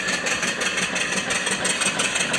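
An antique mill steam engine with a flyball governor, antique pulleys and a Swift oiler, running on live steam from a 20-inch boiler, gives a steady, evenly pulsing mechanical chuff up close, continuous and without voices.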